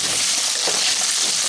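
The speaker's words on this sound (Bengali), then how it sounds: "তেল গরম হতেই আমি এর মধ্যে আলুগুলোকে দিয়ে দিচ্ছি" Potatoes frying in hot oil for an aloo potol rasa, a steady loud hiss of bubbling oil filling the whole moment without pause, close up and with no talking.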